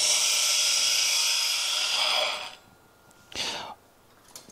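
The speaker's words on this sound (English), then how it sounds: "I'm gonna let the wheel wind down." A bench grinder wheel used for sharpening traditional turning tools spins loudly with a steady whine, then abruptly fades as it winds down, followed by a brief softer rustle.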